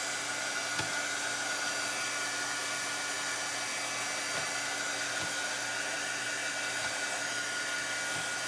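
A hair dryer runs steadily to dry layers of craft paint on a DIY paint disc for a solar light, a constant close, loud whoosh throughout with a few faint knocks underneath.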